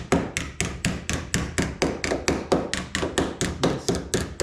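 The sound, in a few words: body hammer tapping metal lip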